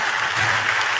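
A burst of enthusiastic applause from a church congregation, dense clapping filling the whole moment with no voices.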